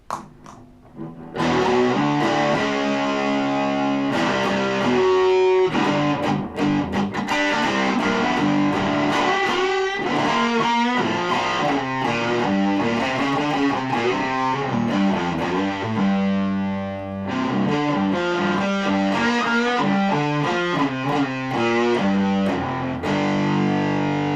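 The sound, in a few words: electric guitar through fuzz distortion pedal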